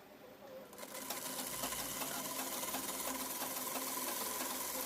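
A sewing machine starts up and runs steadily, stitching the hem at the bottom of a ladies' Pakistani-style trouser, giving a fast, continuous mechanical whir and rattle close by with no talking.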